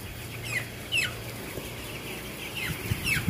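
Broiler chickens in a closed poultry house cluck and squawk in several short calls over a steady low hum of the house, fairly faint and continuous.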